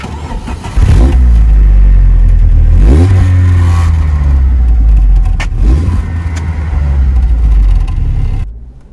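A Vauxhall Cavalier MK3 engine, heard from the rear of the car, starts and revs hard in several loud blips before settling into a steady idle and cutting off.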